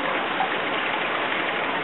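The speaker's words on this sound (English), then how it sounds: "you can see the hot water going into the next pool, and then from that it goes to the third pool" Hot spring water at Goldmyer Hot Springs pours steadily from one pool into the next, a continuous close rushing splash without talk.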